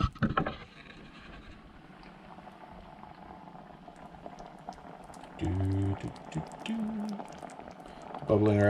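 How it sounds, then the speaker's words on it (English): Chili bubbles steadily in a pot on the stove, a continuous soft boiling and popping close up, with a person talking briefly over it near the end. "Bubbling around our edge."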